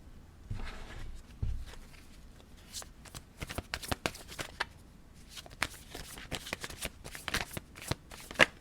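Tarot cards shuffled by hand, a close series of crisp riffling and flicking bursts, brief and irregular, growing busier toward the end with soft rustling between.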